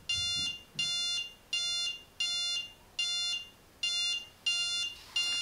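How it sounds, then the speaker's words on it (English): A MOCREO LoRa Hub H5 Pro temperature sensor hub sounds its alert with eight loud, evenly spaced electronic beeps, each about half a second long, in a quiet room. "And we have alert."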